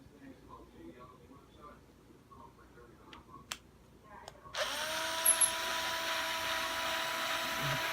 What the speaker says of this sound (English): So now what I got to do is drill another hole with my trusty little drill bit.